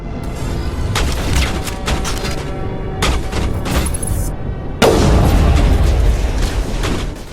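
Dense gunfire and booms fill the Mass Effect: Bring Down the Sky combat scene as turrets fire, loud and continuous with repeated bursts and a heavier blast midway.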